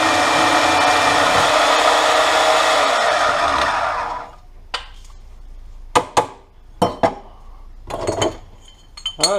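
A loud, steady whine of a metal-cutting tool slicing stock for a Ford Mustang drift car build runs for several seconds, then stops, followed by sharp metallic clinks and clanks of pieces being handled nearby.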